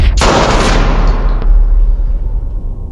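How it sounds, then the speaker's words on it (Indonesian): Gunfire from the action film Shadow Force: one sharp, loud shot cracks out and booms into a long decaying echo, with a fainter second report shortly after. "tembakan Ishak sudah lebih dari cukup untuk menghabisi target"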